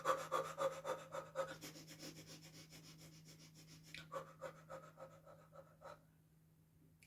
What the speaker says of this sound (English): When I get into cold water, my natural response is to go into fire breathing.